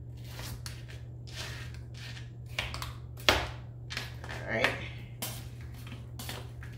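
Shrimp being cut into chunks on a kitchen board gives a series of short knife taps and scrapes, one sharper knock among them. A person talks throughout, with a low steady hum underneath.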